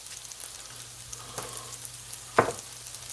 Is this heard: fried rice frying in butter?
yes